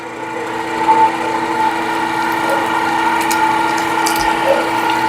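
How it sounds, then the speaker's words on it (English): OKF electric meat grinder running steadily as it regrinds soft meat to a finer texture, a continuous close mechanical whir with gear and ratchet-like grinding throughout and faint clatter. "I'm gonna run it again and make it a little bit finer grind."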